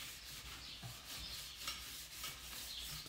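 Car wheel rims being sanded by hand, a quiet, continuous rubbing and scraping with uneven strokes, close up and heard alone.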